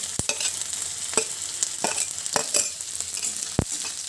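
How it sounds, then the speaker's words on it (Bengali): Chopped onion fries in hot oil with a constant crackling sizzle, broken by sharp spatula knocks and scrapes against the pan as it is stirred. "পেঁয়াজটা একটু তেলের সঙ্গে নেড়ে ফেলে নেব"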